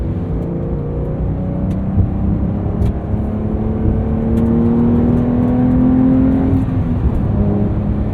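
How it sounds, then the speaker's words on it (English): Steady engine and exhaust drone from inside a 2023 Porsche 911 Carrera T with manual gearbox while driving, rising slightly in pitch and loudness partway through, with no talking. "Nice throaty exhaust note."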